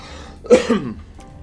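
A single short cough bursts out at close range, followed by a quieter second rasp, then near silence with faint room noise.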